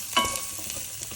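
Carrots stir-frying over high heat in a pan for pork satay with vegetables, a steady close sizzle with a brief scrape of stirring near the start.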